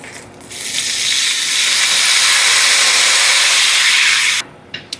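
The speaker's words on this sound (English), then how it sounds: "So now I'll deglaze this, put in a little butter, olive oil, and the onion. And this is gonna splatter because this is cold." Dry white French vermouth hits a hot pan with butter, olive oil and onion, letting off a loud, sustained hissing sizzle that holds for several seconds, then cuts off abruptly, followed by a couple of small clicks.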